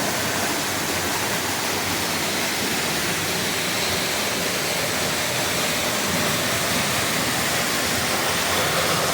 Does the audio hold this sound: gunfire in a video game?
no